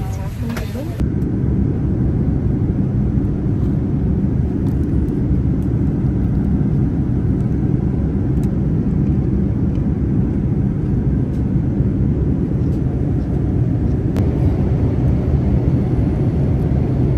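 Airplane cabin noise during a 13-hour flight forms a constant, heavy low roar that runs unbroken the whole time, with people talking over it.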